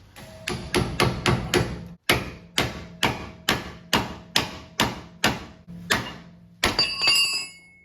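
A hammer pounds on a Jeep CJ-5 steering linkage to separate the tie rod, with about a dozen sharp, loud metallic blows in a steady rhythm, a short pause partway through and a ringing final strike.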